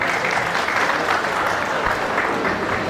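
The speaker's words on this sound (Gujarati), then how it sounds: "જોરદાર તાળીઓ થઈ જાય છે એ માટે." Audience applause at a youth organisation's prize distribution ceremony, steady dense clapping filling the whole stretch with no voices over it.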